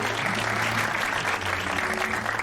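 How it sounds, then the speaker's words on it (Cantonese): Warm, continuous applause from a gathered crowd welcomes a chairman at a celebration, an even wash of clapping hands that holds steady for the whole moment. "我哋以熱烈嘅掌聲歡迎成董"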